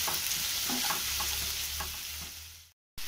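Onions sautéing in a pan with salt, a close, steady sizzle with soft stirring scrapes, fading slightly before a brief cut to silence near the end.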